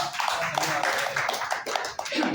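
Audience applause rises at a gathering, a close, dense patter of clapping hands with uneven bursts, and a voice talking over it.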